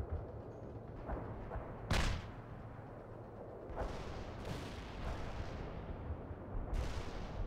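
Artillery fire booms in a military strategy video game, with a sharp loud blast followed by several further distant thuds and rumbles over a steady background of combat noise.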